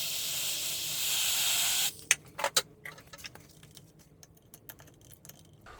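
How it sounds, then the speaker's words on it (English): A blast of compressed air hisses steadily for about two seconds onto the crank of a 2000 Honda XR200R motorcycle engine, then cuts off into a few faint clicks and taps of handling parts. "cool this crank down using compressed air"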